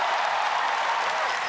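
A Singaporean crowd at a ONE Championship MMA fight applauds in a dense, continuous wash of clapping that holds at an even level throughout.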